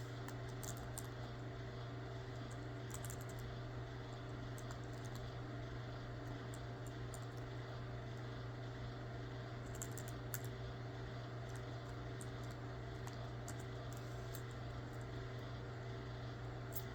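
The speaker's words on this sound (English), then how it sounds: "I'm typing." Faint, irregular clicking of keys on a computer keyboard in short bursts over a steady low electrical hum.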